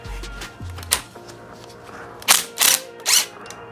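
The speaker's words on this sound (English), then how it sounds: "You're gonna need a 17 mil impact just to break it loose" An impact wrench with a 17 mm socket works a bolt on a BMW E46 M3 suspension during a KW V3 coilover install. A few scattered clicks and clunks come first, then three loud, close rattling bursts in quick succession.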